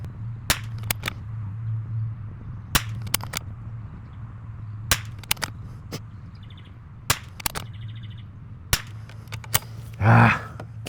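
Sharp rifle shots from a Tikka T1X at a 100-yard range ring out one at a time at irregular intervals over a steady low hum. A brief burst of rustling follows near the end.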